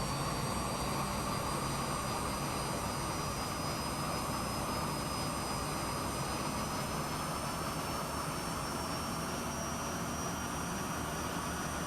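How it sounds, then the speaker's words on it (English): Jet aircraft engine spooling up to full power before takeoff, a loud continuous roar with a rising high whine, steady and close throughout with no talk. "run the engine up to full power, and then release the brakes"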